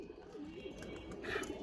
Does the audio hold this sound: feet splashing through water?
no